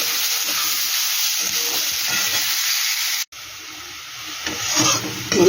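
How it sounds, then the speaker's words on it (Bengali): Onions frying in a pan for egg pulao give a loud, continuous sizzle up close, with scraping strokes of stirring that grow more active toward the end and a brief cut midway. "পেঁয়াজটা কিন্তু আমার বেশ সুন্দর লাল লাল করে ভাজতে হবে।"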